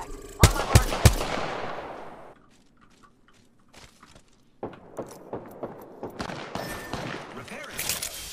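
Apex Legends gunfire cracks out in sharp bursts, a few loud close shots followed by quieter, rapid distant firing and scattered pops, with players' voices faintly present.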